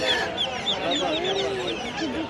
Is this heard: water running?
no